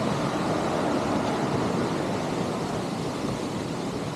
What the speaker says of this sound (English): Got a fountain here where we can get a bit of water,